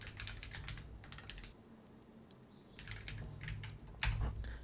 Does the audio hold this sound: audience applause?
no